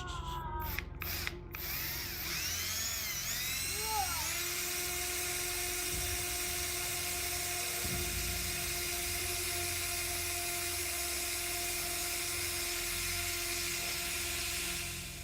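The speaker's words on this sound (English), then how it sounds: "He starts drilling." A drill bores into a strange metal object, giving a loud, continuous high whine that holds steady pitch after a few sharp bursts at the start and runs without a break, with no voices.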